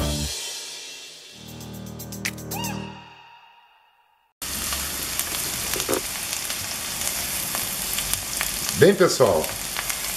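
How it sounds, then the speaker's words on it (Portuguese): Chopped onion sautéing in a pan with sausage, a steady close sizzle filling the second half after a short burst of music and a brief spoken phrase, with a clink of utensil near the end. "a gente já coloca uma cebola bem grandona em pedacinhos também bem pequenininhos, tá? E vamos agora fazer o refogado aqui"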